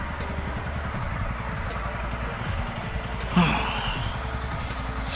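A loaded motorcycle engine runs steadily on a road trip from India to Nepal, the rider's helmet visor open, giving a continuous low rumble with wind noise and a brief louder burst partway through.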